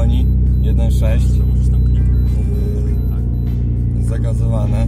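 Volkswagen Passat B5 with a 1.6 litre, 100 horsepower engine running on LPG, idling steadily with a low continuous rumble throughout while people talk over it.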